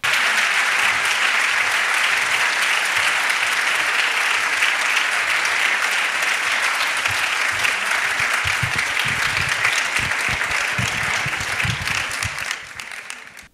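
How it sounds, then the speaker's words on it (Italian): Thunderous applause from a large paying audience at the Festivaletteratura literary festival in Mantua rolls on loud and unbroken for several seconds, then drops away abruptly near the end. "applausi scroscianti"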